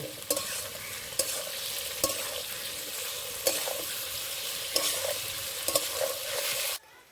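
Salted jackfruit fries in a pan while being stirred, a loud, steady sizzle close by, punctuated by regular scraping strokes of the spatula every second or so, with no talking before it cuts off.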